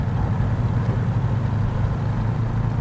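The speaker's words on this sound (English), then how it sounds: "The engine sound does sound very American. This is your American muscle V8." A 1969 Mercury Cougar convertible's V8 engine rumbling steadily from inside while driving, a deep continuous low drone with a constant hum and no voices.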